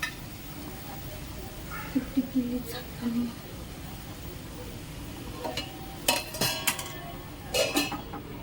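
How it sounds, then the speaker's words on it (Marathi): Chicken sukka masala with turmeric being stirred in a pan, giving soft intermittent scrapes and clinks of a spoon against metal, moderately close and fairly quiet. "छानपैकी आपण हलवून घेऊया याला व्यवस्थितरित्या"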